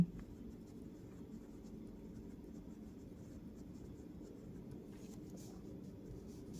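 A pen writes the Chinese character 有 on paper, making faint continuous scratching over a low steady background hum.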